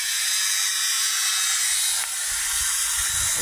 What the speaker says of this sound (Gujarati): મોટર ચાલુ થઈ ગઈ છે